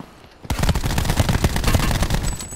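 Rapid automatic gunfire in Call of Duty Black Ops 4 Blackout on the Alcatraz map, a sudden loud burst of dense shots that continues steadily for about two seconds, close and without talk.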